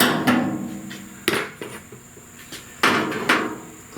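A slide hammer pulls a dent in the rear panel of a 1969 Chevrolet C10, giving several sharp metallic knocks spaced irregularly, close and fairly loud, with no one talking.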